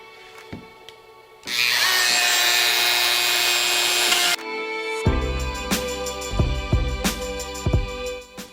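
Wooden CNC-cut pieces are worked in a shop: a few knocks, then a loud continuous power-tool whine for about three seconds while tabs are cut, followed by lighter scraping and tapping as the wood is sanded and handled, no talking.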